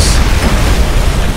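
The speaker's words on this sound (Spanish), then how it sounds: "¡Qué explosión! ¡Explotamos la isla!" A rocket strike blowing up an island in Call of Duty, one continuous roaring blast that stays loud and full from start to finish.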